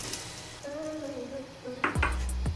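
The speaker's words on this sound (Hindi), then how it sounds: "अब इसमें 3 चाय के चम्मच चीनी ये शामिल करूँगा मैं।" Teaspoons of sugar added to a peach mint margarita drink, with a faint ringing tone followed by a few sharp, close spoon clinks against the container.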